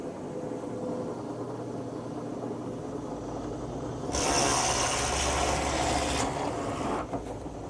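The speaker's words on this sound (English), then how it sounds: "I've set up my drill press with a Forstner bit" A drill press hums steadily, then a Forstner bit bites into a wooden fence stringer with a louder, rough grinding whir for a couple of seconds before easing off.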